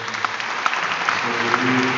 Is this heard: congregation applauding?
yes